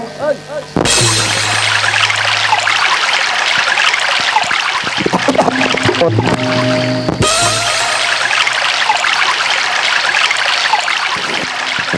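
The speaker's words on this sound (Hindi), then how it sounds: "ए पानी ला फोड़ देता हूँ।" Water gushing and splashing steadily from a breached flooded field, loud and continuous throughout with a brief interruption in the middle, with a low hum and voices faintly present beneath the rushing flow.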